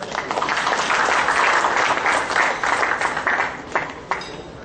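A crowd at a psychiatry conference applauds loudly and steadily, the clapping swelling then gradually thinning out toward the end.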